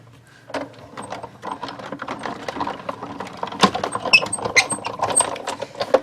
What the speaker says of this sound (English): I'm just going to run it back through to cut a second one.